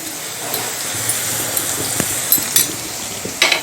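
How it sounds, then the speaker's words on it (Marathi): Garlic-coriander paste sautéing in a pan, a steady low sizzle under intermittent spoon clinks and scrapes against the pan, close and fairly loud. "लसूण कोथिंबिरीची पेस्ट चांगली परतून झालेली आहे"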